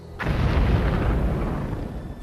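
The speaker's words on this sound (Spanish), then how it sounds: "el bombardeo de molinos de azúcar, el incendio de granjas y la explosión de fábricas" Explosion from sabotage attacks on sugar mills, farms and factories: a sudden loud blast bursting in, followed by a long rumbling roar that slowly fades.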